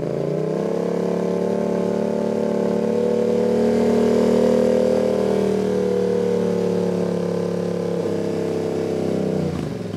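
A motorcycle engine revs loudly and holds a sustained, swelling roar for several seconds, then the pitch drops near the end; the sound is close and continuous with no talk over it.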